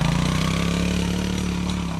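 A Sunl SLA 90cc Chinese four-wheeler with a four-speed automatic clutch runs wide open in second gear through woods, its small engine droning loud and close with a steady buzzing pulse and a slight pitch waver.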